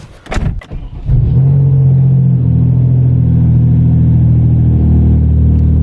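A Hyundai Genesis Coupe on a cold-weather test drive rumbles loudly and steadily after a brief clatter, its engine droning low and constant close to the microphone.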